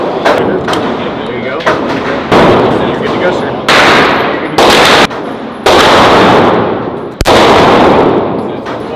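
Guns fire one at a time at a shooting range. The shots are loud and sharp, spaced a second or two apart, each with a short ringing tail, and quiet voices talk now and then between them.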